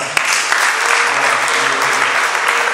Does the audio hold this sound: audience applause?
yes